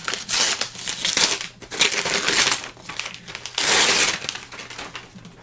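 Cardboard and plastic packaging of a comic book shipment being ripped open by hand, loud crinkling and tearing in several bursts over a few seconds, close and without talk.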